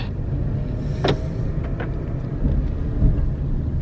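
A car rolls at low speed around the old Flemington Speedway, a steady low engine rumble and road noise close by with a few brief higher clicks or squeaks over it.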